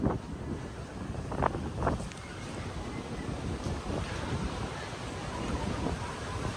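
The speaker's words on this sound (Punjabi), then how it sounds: "ਹਵਾ ਇੰਨੀ ਜ਼ਿਆਦਾ ਚੱਲਦੀ ਪਈ ਆ ਖੜਿਆ ਨਹੀਂ ਜਾਂਦਾ" Strong seaside wind buffets the microphone in a steady roar with gusty rumble, with faint surf-like wash behind it and a few brief thumps, continuous and loud throughout.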